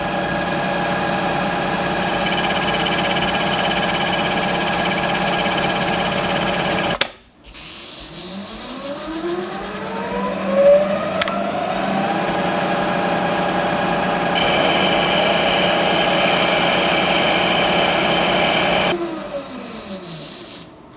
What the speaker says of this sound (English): So we're going to try and basically bore this out so that it's undersized to the bushing